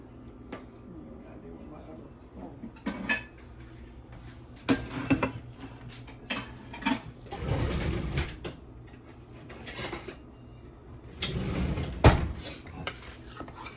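Spaghetti casserole is plated with scattered clinks and scrapes of dishes and utensils, some louder clatters at intervals, with a voice talking quietly underneath.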